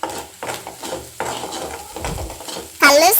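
Green egg rice with garam masala being stirred in a pan: repeated scraping, clattering strokes of a spoon against the metal, with a sharper, louder burst of scraping at the very end.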